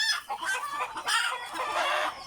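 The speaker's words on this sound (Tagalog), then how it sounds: "manok na maingay" Several chickens cluck and squawk noisily and continuously, close by, with overlapping calls and no speech.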